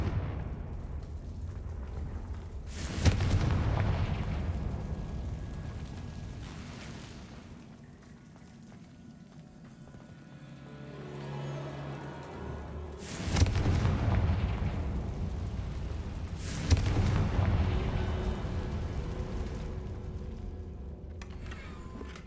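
Confringo spell explosions in the Hogwarts Legacy video game: loud booming blasts at intervals, with a rumbling roll and decaying echo between them and no talk.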